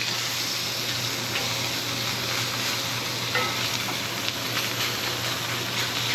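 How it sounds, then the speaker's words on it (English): Steak and puffball mushrooms sizzle steadily in a hot pan, a loud continuous frying hiss close up with a faint scrape of stirring partway through and no talking. "now I'm going to throw in the steak. Throw those mushrooms up on the steak"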